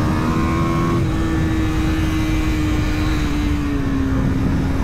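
A 2023 KTM RC 390 motorcycle engine on throttle, a loud continuous close-up engine drone with a steady high pitch, blended with heavy wind rush.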